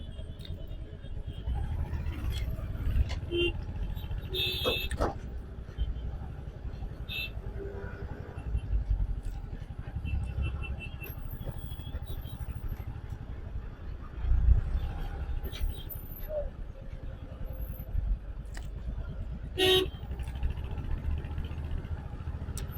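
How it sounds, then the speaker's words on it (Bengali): A motorbike moves through a jammed road on a ride from Dakshineswar to Bongaon. Engines rumble and rev all around, a few horns sound now and then, and a voice talks over the traffic. "দেখেছেন অবস্থা রাস্তায় বাইক চালানো, পুরো রাস্তাটা জাম আজকে।"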